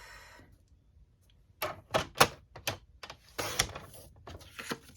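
Night of Navy cardstock being cut to size with a paper trimmer for a handmade card, giving a series of short, close slicing and clacking sounds in bursts.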